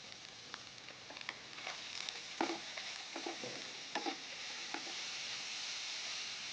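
Cabbage and carrot sauté in a pan with a steady sizzle, while scattered stirring scrapes and clicks come through at close range.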